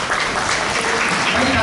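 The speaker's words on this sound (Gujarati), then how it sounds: "આપણે તાળીઓથી આવકારીએ" Audience applause welcoming a singer at a senior citizens' centre gathering in Surat, steady clapping from a crowd filling the short stretch with a continuous patter.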